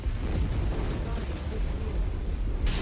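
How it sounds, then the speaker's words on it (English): Ammo explosion on a Wolverine mech in MechWarrior 5, a loud continuous rumbling blast with booming low end that stays dense throughout, ending with a sharper burst near the close. "Looks like our mans is having an ammo explosion."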